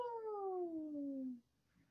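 A single drawn-out cat meow, falling steadily in pitch over more than a second and heard close and clear indoors, then cutting off into quiet room tone.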